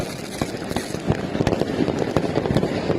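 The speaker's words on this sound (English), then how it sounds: "But I like this fireworks show." A fireworks show with many people setting off fireworks: a dense, irregular string of sharp pops and bangs rattles over a steady crackling background, with no talking.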